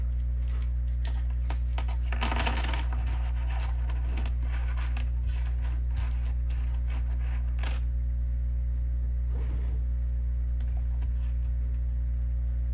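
Small plastic letter tiles clicking and clattering as they are shuffled around, in irregular bursts over a low steady hum.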